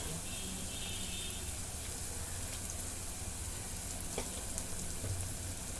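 Masala with red chili powder and turmeric fries steadily in a pan, a constant dense sizzle and crackle with occasional soft stirring scrapes, close and even throughout.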